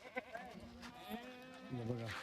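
Wet goats in a shelter with a torn tarpaulin bleat in short, wavering calls close by, with a voice speaking underneath.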